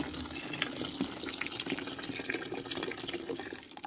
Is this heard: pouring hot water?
yes